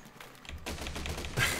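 Cannon fire from a bomber aircraft in the physics building game Besiege, a dense run of booming shots and thuds rolling together into a loud continuous barrage with a sharper burst near the end.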